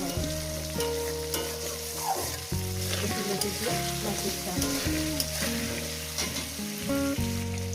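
Oil sizzling steadily in a pan as turmeric powder is stirred into the frying for a rui fish and taro stolon curry, a continuous crackle heard beneath background music.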